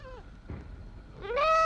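Goat bleats in a Dutch radio play, with a wavering call at the start and a louder, rising, drawn-out bleat at the end, close and clear with no talk.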